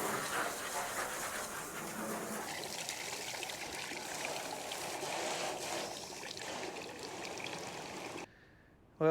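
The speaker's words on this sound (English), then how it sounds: "you can take a hose and try to rinse this all out now and get it completely clean" A hose sprays water to rinse out a feed wagon, a steady broadband wash of pouring and splashing that runs loud and continuous for about eight seconds before cutting off abruptly.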